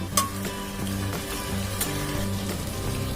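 Dry fish gravy sizzles steadily in a hot pan as it is sautéed, a constant crackle with a few light clinks, while faint background music plays.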